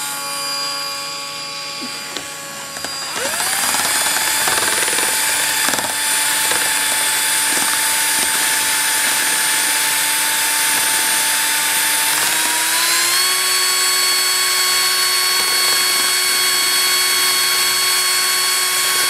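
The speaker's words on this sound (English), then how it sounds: "Most of these hand drills, especially the newer ones, they're made pretty stout." A cordless hand drill used as a mixer whirs into a steady, loud whine after a quiet start, churning continuously with faint knocks, then shifts up to a slightly higher speed and keeps running.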